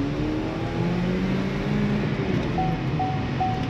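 Chevrolet car engine, just repaired, revving steadily with a loud continuous drone and whirring tones rising in pitch, heard close with no talk.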